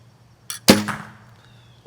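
An archery bow shoots an arrow at a novelty target: a soft release, then one sharp clanging impact with a short ringing tail, close by and alone.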